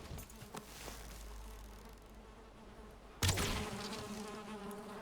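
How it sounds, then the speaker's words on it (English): Insect buzzing from bees in the video game Valheim, a steady droning hum that continues throughout and grows louder and busier partway through, with no talk over it. "There was some bees."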